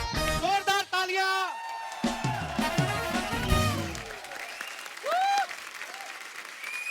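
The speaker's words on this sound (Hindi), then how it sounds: "जोरदार तालियां." A TV comedy show's studio audience applauds and cheers loudly as guests are welcomed, with music stings, whoops and overlapping voices greeting one another on stage.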